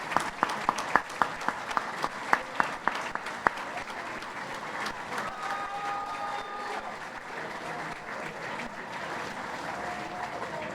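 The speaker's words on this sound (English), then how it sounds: "please rise to get a round of applause" An audience applauds first responders at a meeting, opening with a few loud, distinct claps that build into dense, sustained applause from the room. The applause holds steady and moderately loud to the end.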